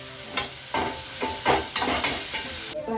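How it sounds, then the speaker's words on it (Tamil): Onions and tomatoes sauté in a pan before chicken is added. A steady sizzle runs throughout, with repeated scraping stir strokes landing as bright bursts at an uneven rhythm, close by and alone without talk. "வெங்காயம் தக்காளி போட்டு நல்லா வதக்கி விட்டுட்டேன்"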